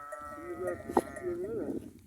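A sheep bleats in a goat and sheep herd outdoors in the countryside, one wavering close call followed by a second drawn-out bleat, with a short clank between them.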